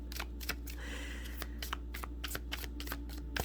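Oracle card deck being shuffled by hand, a quick run of crisp riffling card snaps and soft slides, fairly close and steady, with no talking.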